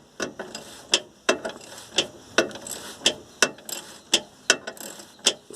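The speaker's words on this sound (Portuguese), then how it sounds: "Você deixa o cachimbo mais na ponta, daí como o parafuso é mais fino, ele entra no furinho do cachimbo e você consegue trabalhar mais um pouquinho." A socket wrench ratchets in short strokes while turning a thin bolt on a Chevrolet Blazer S10 drivetrain, about a dozen close, crisp clicking bursts in an uneven rhythm.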